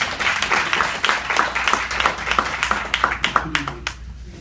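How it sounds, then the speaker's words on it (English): An audience at a library storytelling slam for startups applauds a speaker, brisk clapping from a small crowd, fairly close, that thins into a few separate claps and fades out near the end. "Round of applause for Mike."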